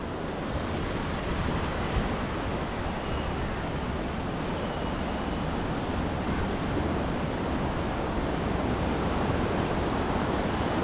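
Rain-fed river water rushing over a causeway bridge in Idukki, a dense, steady roar of flowing water, close and continuous with no voices.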